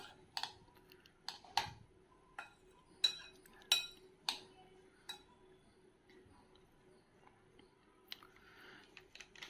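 A spoon stirs chili powder into lentil pieces in a bowl for a crispy snack, giving sparse, close metallic clinks and taps spaced a second or so apart against a quiet background.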